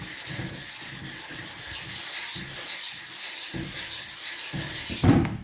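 Putty on a VW Beetle body panel being sanded by hand, steady rhythmic rasping strokes rubbing back and forth up close, with a brief louder knock near the end.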